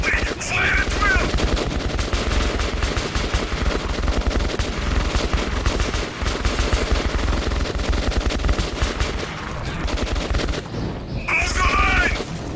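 Sustained, loud automatic gunfire and shooting fill a Metro 2033 Redux battle, with dense rapid bursts continuing throughout and brief shouted voices mixed in.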